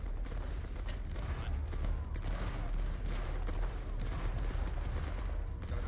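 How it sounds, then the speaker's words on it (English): Musket fire from 33rd of Foot reenactors at a staged battle: irregular sharp cracks scattered across the clip over a constant outdoor rumble, some near and loud, others farther off, with faint voices in the background. "Fire at will."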